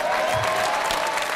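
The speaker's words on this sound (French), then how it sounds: "applaudissez pour le grand frère" Audience clapping throughout a comedy show, a brief continuous wash of applause.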